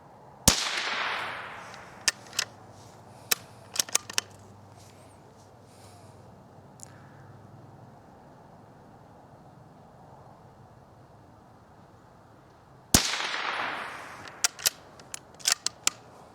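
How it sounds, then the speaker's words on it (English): Sharp .22 rifle shots firing CCI Uppercut hunting ammunition outdoors, two loud cracks about twelve seconds apart, each trailed by a series of smaller snaps and impacts, with quiet ambience between. "So let's take a few shots real quick."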